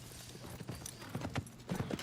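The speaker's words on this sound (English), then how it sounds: "Wow, look at that horse" Horse hooves clip-clop in an irregular walking rhythm, the hoofbeats muffled and fairly faint under a low rumbling background, with a faint voice now and then.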